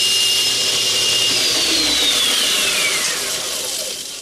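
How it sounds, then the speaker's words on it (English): Angle grinder switched off while shaping a knife cross-guard, its high whine dropping in pitch as the motor spins down over a few seconds, loud and close with no talking. "Shut that grinder off."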